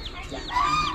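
A hen clucks a few times nearby at an Amish animal auction, short throaty calls over a quiet outdoor background.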